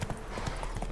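Galloping horse hooves from The Witcher 3, a steady clip-clop rhythm repeating across the moment as the horse rides at high speed, close and moderately loud over a dense game soundscape.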